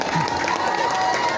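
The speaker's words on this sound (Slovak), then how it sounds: "Dajte mu potlesk, toto je Pečko." An audience claps and cheers for a young boy brought on stage at a party event in Galanta, a short burst of crowd applause mixed with voices.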